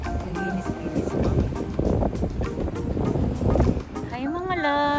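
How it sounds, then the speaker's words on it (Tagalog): Strong, cold wind by the sea buffets the microphone in loud, rumbling gusts, with someone talking over it and a higher voice toward the end. "Grabe, ang lakas ng hangin."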